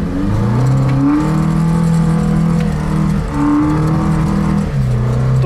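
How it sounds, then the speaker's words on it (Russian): A 1.9 L, 120 hp car engine revs steadily while the car accelerates uphill, a loud, sustained drone with small shifts in pitch and no talk over it. "Нажимаю газ."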